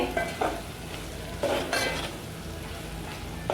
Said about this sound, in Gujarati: હવે મકાઈ ચડે ત્યાં સુધી આપણે ચડવા દેવાનું છે